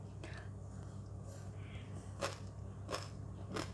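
Someone bites into a crispy Thai pork salad, with three or four quiet crunches spread across a few seconds at close range and soft mouth sounds between them.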